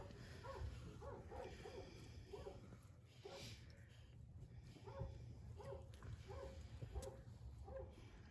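Dog barking from inside a farmhouse, muffled and fairly distant, in repeated short barks spread through the clip over a low background hum.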